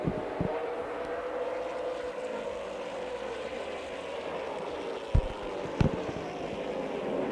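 Late model race cars roar around a track out of turn two, a steady broad engine drone with a couple of sharp bangs near the end and no talk.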